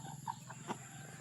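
A few soft chicken clucks sound faintly over a low background hum, brief and scattered.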